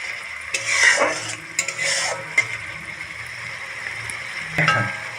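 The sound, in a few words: stir-frying spice masala for fish curry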